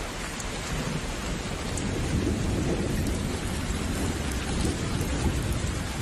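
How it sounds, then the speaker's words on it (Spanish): Heavy rain pours steadily while deep rolling thunder rumbles underneath, a dense, continuous storm wash without any voices. "El viento meridional trae relámpagos y lluvia"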